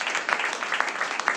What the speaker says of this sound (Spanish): ¿Cuánto dan un aplauso?